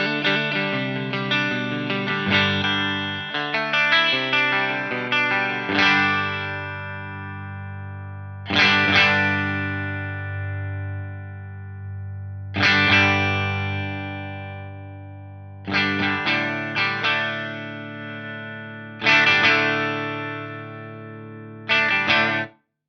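An electric guitar plays through a Diezel Einstein amp with depth lowered and presence raised, giving a distorted, effected tone. Ringing chords are struck and left to decay, then struck again at uneven intervals, loud and alone.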